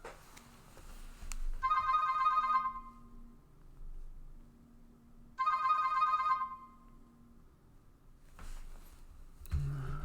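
A phone ringing with two separate bursts of bright electronic ringtone several seconds apart, each lasting about a second, loud and close in an otherwise quiet room, with a faint click near the end.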